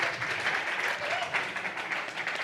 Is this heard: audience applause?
yes